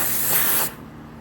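An aerosol spray paint can releases a steady, close hiss while coating small burn-through spots, holding loud and continuous before cutting off abruptly, with no talking.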